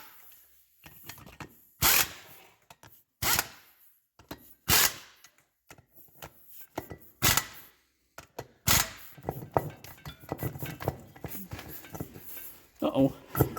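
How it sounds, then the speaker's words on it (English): An impact wrench tightens the front brake bolts on a 1977 Toyota Celica in several short loud bursts, separated by quiet gaps and clinking tool handling, with someone talking between bursts. "Get our impact in 14 millimeter."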